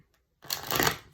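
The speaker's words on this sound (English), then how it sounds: "One last shuffle" A quick riffle of tarot cards being shuffled, a short crisp burst of papery fluttering that starts after a brief silence and fades out.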